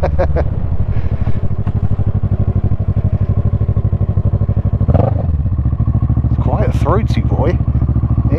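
A motorcycle engine revs loud, throaty and deep up close, a steady rumbling idle with sharper rising revs toward the end; a voice speaks briefly around them.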